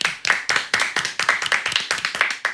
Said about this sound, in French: Je pense qu'on peut applaudir pour ça, vraiment.